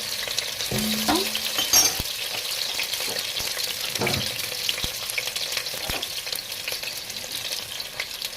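Onions and potatoes sizzle steadily in a pan, with occasional scrapes and clinks of stirring, fairly quiet and close, no talking.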